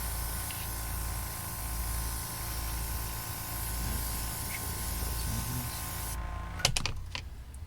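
A Gunpla model kit, an HG MS-07B Gouf, is spray painted with a steady close hiss that lasts about six seconds and ends in a few sharp clicks.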